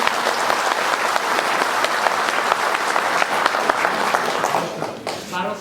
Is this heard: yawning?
no